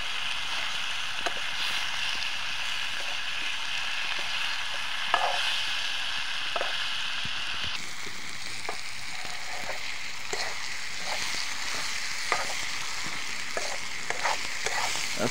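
Meat sizzles in a kadai at a night campsite, with a steady hiss of frying broken by repeated scrapes and clinks of a spoon stirring the pan.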